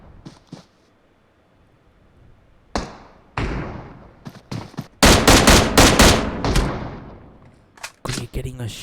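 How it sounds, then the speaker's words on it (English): M24 sniper rifle shots in a battle royale video game, with sharp, sporadic cracks and thuds that build into a dense, loud cluster of rapid fire. A commentator talks between the shots. "Was that an M24? That is an M24."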